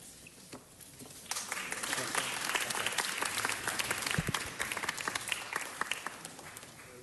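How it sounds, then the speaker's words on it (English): Audience at a city council meeting applauding a $10,000 donation to Kids Progress Incorporated; scattered claps start, then swell into fuller, sustained applause that stays moderately loud. "Let's give them a big round of applause."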